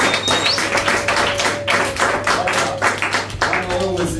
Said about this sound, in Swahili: Piga makofi kwa ajili ya ujumbe mzuri.